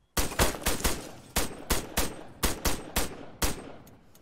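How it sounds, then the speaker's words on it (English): Machine gun fire in the Arma 3 video game: several rapid bursts and single loud reports in an uneven rhythm, sharp and close, with no talking. "there is that machine gun"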